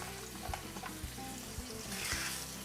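Pork chops sizzling in a tightly packed pan as one is flipped, a steady close frying hiss with a few soft thuds and scrapes of the turner, no talking.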